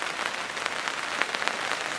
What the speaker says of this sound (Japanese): ちょうど雨降ってきまして